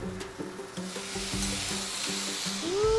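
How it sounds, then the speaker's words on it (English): Garbanzo beans sizzle in a pan for cauliflower curry, a steady close frying hiss beneath rhythmic tonal background music, swelling slightly toward the end. "Ooh, sizzling."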